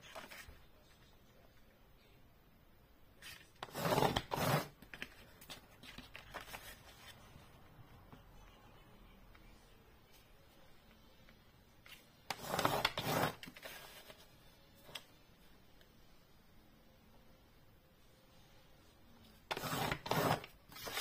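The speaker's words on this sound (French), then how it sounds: "on vient marquer tous les plis" A tool creasing fold lines into a cardboard advent calendar box, three separate scraping passes of about a second each, spaced several seconds apart over a quiet background.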